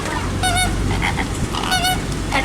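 A flock of greater flamingos at a safari park calls outdoors, loud nasal goose-like honks coming in short bursts and overlapping over a steady background hum.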